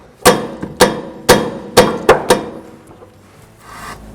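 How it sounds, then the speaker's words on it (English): Hammer taps on a wrench fitted to a stuck nut: six sharp metallic knocks, the last two close together, followed by quiet rustling. "I'm going to tap with a hammer, see if I can get the wrench to loosen up a little bit."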